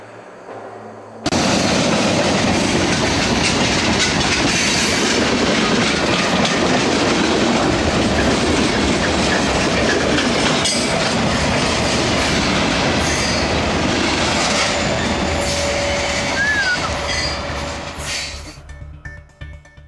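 A train rolls past close by in a sudden, loud, steady roar of rumbling cars and clattering wheels, with squealing metal now and then, before fading out near the end.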